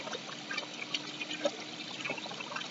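Water trickles and pours steadily in a quiet outdoor setting, a faint continuous flow with small splashy bursts, heard alone with no talk.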